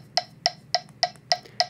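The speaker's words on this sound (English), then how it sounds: "with the metronome clicking, it sounds like this." Six sharp, evenly spaced metronome clicks at a brisk 210 tempo, crisp and close, with nothing else sounding between them.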